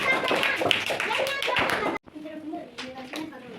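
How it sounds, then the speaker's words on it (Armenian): A small group claps briskly, individual hand claps audible, breaking off abruptly partway through; afterward a voice speaks over faint remaining taps. "ծափ արեցին"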